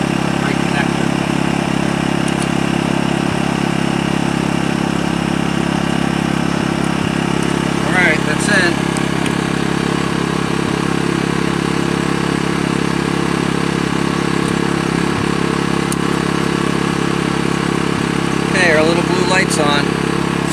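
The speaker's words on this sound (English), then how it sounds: "So we're currently powering the van off the generator." Portable RV-ready generator running steadily nearby while powering a van, a constant mid-pitched engine drone with faint background noises and a person speaking over it.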